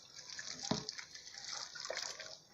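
Water poured over beef in a cooking pot, a soft, fairly quiet splashing gush with small sloshes and a brief sharper splash, close by.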